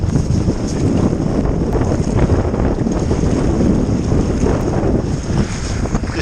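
Wind blows steadily and loudly across a shallow reservoir at a bream fishing match, a constant broadband roar with buffeting on the microphone and no talk.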